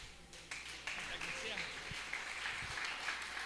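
Church congregation applauding in a Baptist service, a steady wash of many hands clapping at moderate level, with a voice speaking over it in places.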